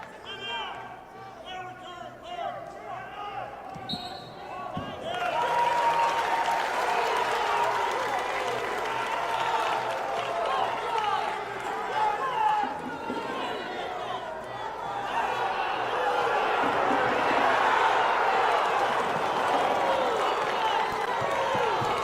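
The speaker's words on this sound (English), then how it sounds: "You can hear the crowd." A wrestling arena crowd at a college dual meet, Iowa State against Arizona State, roars and applauds. It starts as a murmur and swells into sustained loud cheering and clapping after a few seconds, with voices mixed in.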